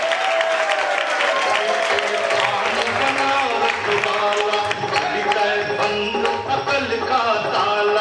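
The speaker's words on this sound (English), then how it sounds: "big round of applause, to Hare Krishna Patel" A wedding reception audience claps loudly and continuously, a dense indoor applause with some cheering mixed in that lasts the whole stretch.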